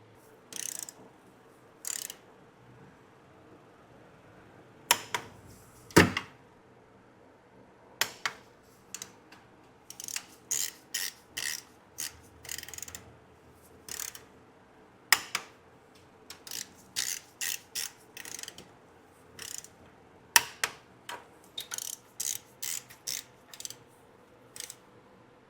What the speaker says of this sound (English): These bolts will get torqued down to 13 foot-pounds, and then the nuts will be torqued down to 12 foot-pounds.